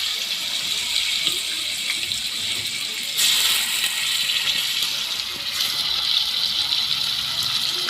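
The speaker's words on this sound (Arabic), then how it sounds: "هنزل بقى باللحمه اديها تشويحه كده" Beef searing in melted butter and oil in a hot cooking pot, a steady broad hiss and sizzle running throughout, swelling louder partway through as the meat is turned, with no talking.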